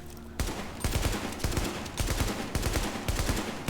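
AK rifle fire in the video game The Division, sounding as a series of quick, punchy shots in short bursts, several rounds in a row, fairly quiet overall with no talk.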